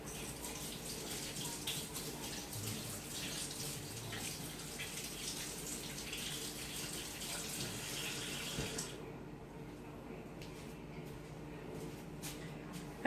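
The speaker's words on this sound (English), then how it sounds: "let me rinse my hands" A kitchen tap runs steadily while hands are rinsed after making gingerbread cookie dough, a continuous close hiss of flowing water that softens near the end before a final clunk.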